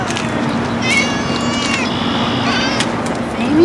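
A domestic cat gives a couple of drawn-out meows near the middle, close and clear, over a low steady background hum, followed by a short rising cry at the end.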